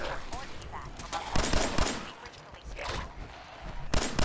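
Gunfire from free-aimed shooting in the video game Fallout 4, a run of sharp broadband bursts and rapid shots of varying loudness, with clusters around the middle and end over a busy game background.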